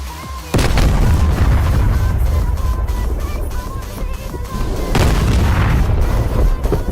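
In a flight-combat video game, 2,000-pound bombs dropped from an A-10 at about 260 knots hit a building and explode as two heavy, booming blasts. Each blast is followed by a long rumbling tail, loud and close.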